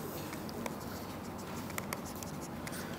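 Pen or chalk writing on a surface during a mathematics lecture, a steady faint scratching with small taps, quiet and close, with no talking.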